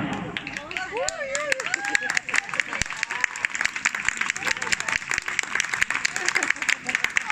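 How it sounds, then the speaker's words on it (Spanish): Audience applause and clapping at a neighbourhood association party's variety night in El Prat de Llobregat, steady and sustained for the whole stretch, with voices talking over the start. "Están aplaudiendo y todavía no hemos visto si son las cartas"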